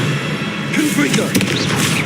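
Confringo blast spell fired in Hogwarts Legacy: a booming, crackling explosion burst with scattered debris-like impacts, loud and brief, with a voice calling out over it.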